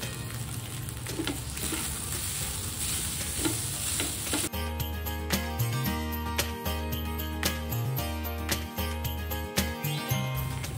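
Cooked rice and black pepper powder are stir-fried for egg fried rice with a loud, steady sizzle. A spatula scrapes and clinks against the pan in a repeating rhythm, with a background melody underneath.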